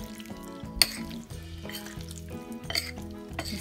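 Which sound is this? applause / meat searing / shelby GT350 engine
meat searing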